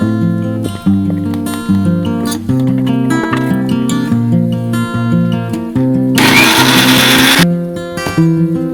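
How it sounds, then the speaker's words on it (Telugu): Music plays throughout, then a loud, harsh whirring grind of a mixer grinder blending onions and tomatoes into paste bursts in for about a second before cutting off. "ఉల్లిపాయలు, టమాటా కూడా యాడ్ చేసి మిక్సీ పట్టుకోవాలి"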